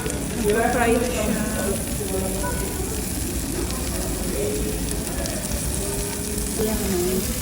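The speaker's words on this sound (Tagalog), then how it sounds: "Nagpa-fry na siya." Food frying in a hot pot of boiling broth at a hot pot mukbang meal, a steady close sizzle and bubbling hiss running throughout, with voices and clatter now and then over it.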